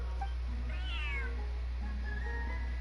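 A cat meows in the video game Genshin Impact, one rising-and-falling call near the start and a softer drawn-out mew later, heard alone over steady low game ambience.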